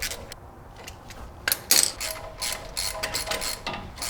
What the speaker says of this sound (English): And you just torque these little nuts down to 9 foot-pounds of torque.